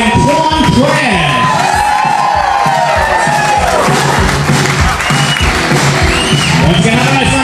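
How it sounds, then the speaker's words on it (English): Wedding guests at an outdoor reception at Look Park in Florence, Massachusetts, applauding and cheering loudly and continuously, with shouts and whoops rising through the crowd and voices mixed in. "please keep your applause going"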